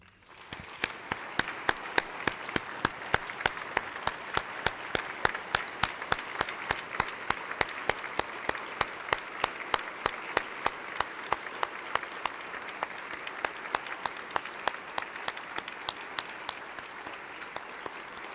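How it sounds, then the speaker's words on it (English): Applause fills a legislative chamber as Vietnam veterans are honored on the floor, with many hands clapping in a dense, sustained wave that holds steady for the full stretch. "can we join all of these heroes amongst us for a warm round of applause?"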